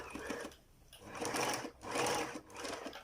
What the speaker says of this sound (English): So I'm gonna start sewing now